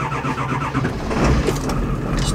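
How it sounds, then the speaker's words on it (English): A diesel truck engine cranks and fires on a cold morning around 30 degrees, catching within a second and settling into a loud, rough, clattering idle close by. "Truck just starts way faster, way better"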